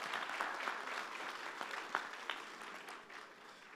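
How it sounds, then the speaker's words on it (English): A commencement crowd at Oregon Tech's 2023 ceremony gives a round of applause for the speaker's family. The clapping is continuous and fairly close, with a few sharper individual claps standing out before it thins slightly at the end. "If I could give them a round of applause."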